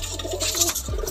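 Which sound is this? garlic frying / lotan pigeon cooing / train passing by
lotan pigeon cooing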